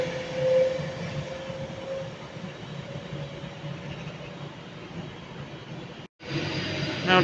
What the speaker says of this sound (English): Now departing is the 18:17 Avanti West Coast service to London Euston.